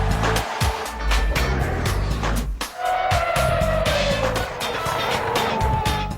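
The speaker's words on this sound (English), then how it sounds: "Let's take a look at the hardest braking point on the Hockenheim ring" Formula 1 cars brake hard at the Hockenheim circuit during the 2006 Grand Prix, engines roaring loudly and continuously with a falling pitch and a brief squeal partway through, close and without talk.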